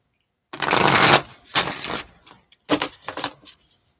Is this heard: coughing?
no